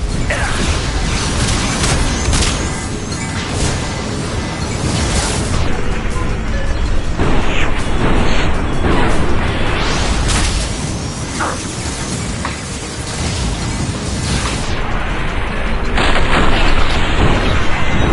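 Flashbang grenades going off during a Mass Effect 2 firefight, heavy booms and bursts crashing together in a loud, dense, continuous barrage of combat noise.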